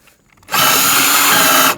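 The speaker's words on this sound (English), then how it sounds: "before I finish drilling through this is that I'm going to put a piece of wood underneath" A power drill bores through the metal roof of a Toyota Sienna minivan, with a piece of wood placed underneath; a steady, loud close-up whine starts after a brief quiet moment and runs continuously.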